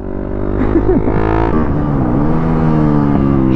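A YCF prototype supermoto motorcycle braking on a track, its engine note loud and close, dropping in pitch as the revs fall under braking, with a brief wavering whine over the steady drone.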